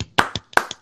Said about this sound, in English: I'm going to clap for myself